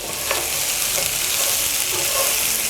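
Goat curry pieces sizzle and fry in a pan while being stirred, a steady close hiss that never lets up, with faint scraping and clinks from the stirring running through it.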